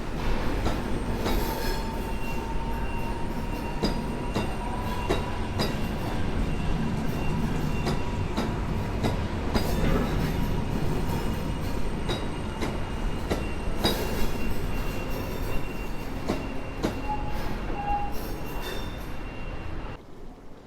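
PKP train rolling through Warszawa Zachodnia station, a steady rumble with rhythmic wheel clatter and brief wheel squeals, fairly near and continuous with no talk.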